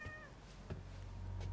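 A cat in The Medium video game meows clearly in a short, close cry, followed by a low steady hum from the game's ambience.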